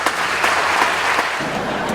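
Studio audience applauding on a television game show, a steady dense clapping lasting a couple of seconds, fairly loud and close, with no talk over it.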